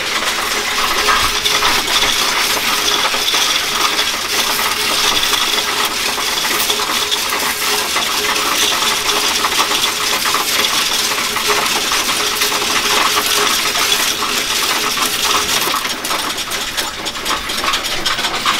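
Coins pour steadily into a Coinstar coin counting machine, making a loud, continuous metallic rattling clatter over the machine's mechanical whir for the whole stretch, with no talking.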